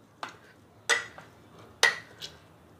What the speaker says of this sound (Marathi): कॉर्न आणि वाटाणा घेतलेला आहे शिजवून. तो थोडासा एका ग्लासच्या द्वारे आपण बारीक करून घेऊया